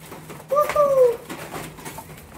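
A pet quail, likely a hen, gives a single short two-tone call up close, clear over a quiet indoor background with faint rustling.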